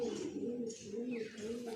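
A 14-year-old pigeon coos steadily in a home loft, its low rolling calls close and continuous through the whole stretch, with faint bird chirps higher up.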